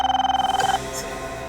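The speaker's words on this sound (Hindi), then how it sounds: "ये उन्हीं का फोन होगा पापा, उन्हीं लोगों का फोन होगा ये" A telephone rings in a rapid warbling trill, its steady pulses lasting under a second before cutting off, leaving a dramatic background hum in a crime drama scene.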